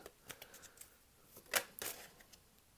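Tarot cards riffle and slide in quiet, close handling, a run of soft taps and flicks followed by two sharper shuffling swishes near the middle, with no talking.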